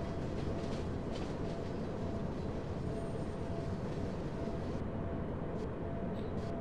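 A BR 155 electric locomotive hauling a coal train rolls through a station in a train simulator, giving a steady, loud rumble of wheels on rails with faint clicks over points, unbroken throughout.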